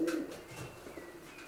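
Racing pigeons coo softly inside a widowhood loft with blue nest boxes, a few low burbling calls close by with faint chirps and no talking.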